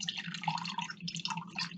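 Liquid poured while cooking trickles and drips in a quick, burbling run, faint and close, without a break.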